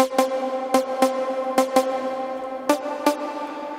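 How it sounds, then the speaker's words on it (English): Bright synthesizer chord stabs made in Massive hit in a choppy, syncopated rhythm, each punchy attack ringing briefly before the next. No voices. "Today we're going to be looking at a kind of epic stab."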